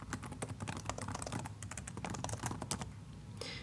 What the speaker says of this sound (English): once I have typed this in, I'll hit enter on my keyboard